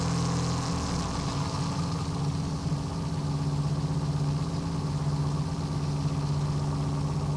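A 1974 VW Super Beetle engine idles steadily at close range after a rev check, a continuous low rumble with a faint rise in pitch near the start and no talk over it.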